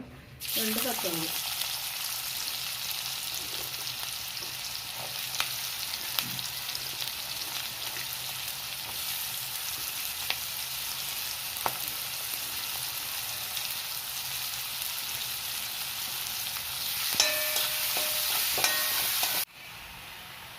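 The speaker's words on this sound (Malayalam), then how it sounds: "നമ്മുടെ എണ്ണ ഇപ്പം നന്നായിട്ട് ചൂടായി വന്നിട്ടുണ്ട് ഞാൻ അതിലേക്ക് സവോള പൊടി പൊടിയായി അരിഞ്ഞത് ഇതിലേക്ക് ചേർക്കാണ്" Finely chopped onions dropped into hot oil in a pan for a prawn roast: an immediate loud sizzle that settles into a steady frying hiss with occasional stirring clicks, close and uninterrupted, then cutting off abruptly near the end.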